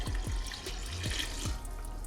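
Water pours into a pot of deer ragu in a home kitchen, a steady close splashing stream with a few soft knocks. Nobody talks.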